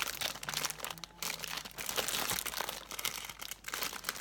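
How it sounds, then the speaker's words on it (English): A clear plastic sheeting wrapper is unwrapped in close, continuous crinkling and rustling with a few sharper crackles, loud and unbroken. "This one has come in a clear plastic sheeting."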